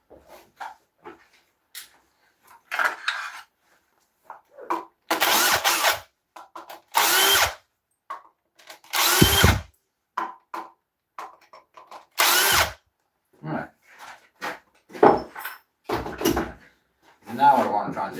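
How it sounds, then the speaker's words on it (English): Cordless drill driver running in short bursts of a few seconds each, loud and close in a woodturning workshop working green oak, separated by quiet gaps and handling noises. "drill driver."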